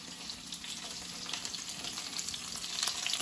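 Bite-sized meatballs fry in a pan of Greek and Italian olive oil, giving a steady, close sizzle with faint crackles and a slight rise in intensity toward the end.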